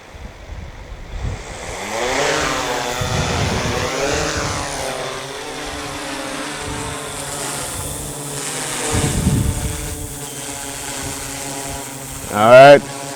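Yuneec Typhoon G drone propellers whirring in flight, a steady buzzing drone with tonal shifts as it maneuvers, rising briefly near the end, with a person talking over it.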